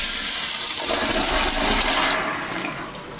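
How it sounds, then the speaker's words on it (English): A Sloan Flushmate pressure-assisted toilet flushes with a loud, forceful rush of water that holds steady and then begins to fade in the last second, with no talking. "I'll flush it one more time here so you can see the real flush"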